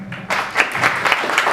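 An audience claps at an African energy panel discussion, a fairly close burst of applause that swells after a brief quiet start and holds steady with uneven individual claps throughout.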